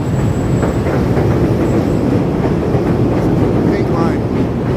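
Chicago elevated Pink Line train passing on high tracks near Canal Street, a loud continuous rumble and clatter of wheels on rails close by, with a faint squeal near the end and some street noise underneath.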